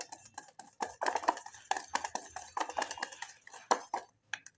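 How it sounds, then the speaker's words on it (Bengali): Dhokla batter is whisked by hand in a bowl: quick, uneven clinking strokes of the utensil against the bowl, close and clear, with brief pauses between bursts. "এবার আমি ব্যাটারটা আবার একবার ফেটিয়ে নিচ্ছি।"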